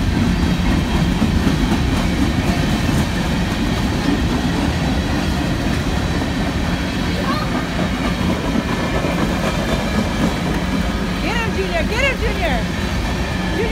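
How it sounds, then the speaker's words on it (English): A train rumbles past close by with steady clattering and occasional high wheel squeals, while people talk over the noise. "The train's coming."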